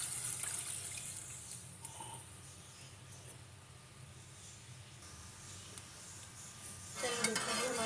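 Half a kilo of milk poured into a pan of seviyan, a soft continuous liquid pour and gentle sizzle at moderate closeness, with a few light clinks of the pan and a louder clatter near the end.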